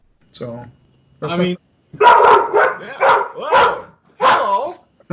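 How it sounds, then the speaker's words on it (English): A dog barks at a FedEx delivery arriving at the door, a few sharp barks mixed in among steady close-up conversation. "my dog always barks at the FedEx port"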